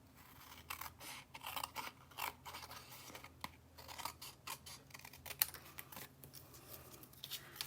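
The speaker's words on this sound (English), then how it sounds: "And then I'll just take my paper snips here." Paper snips trim paper grass for a flower card, giving a series of quiet, crisp cutting snips in irregular bursts, close to the microphone, with no talking.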